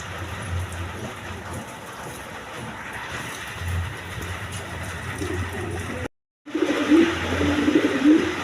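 Male Dragon pigeons at a farm coo in a steady low murmur, with several overlapping birds under a continuous background hum and a brief dropout partway through.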